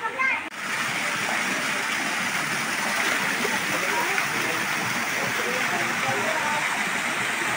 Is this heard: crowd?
no